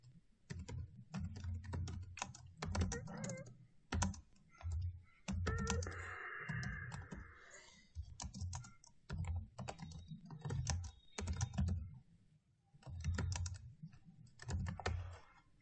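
Computer keyboard keys tapped in a steady run of quick clicks and short bursts during a Photoshop lesson, close and fairly quiet, with no one speaking over them.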